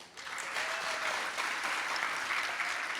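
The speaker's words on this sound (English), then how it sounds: "Big round of applause." Audience applause for a panel speaker at a soccer event, a full even wash of many hands clapping, loud and sustained after a quick start.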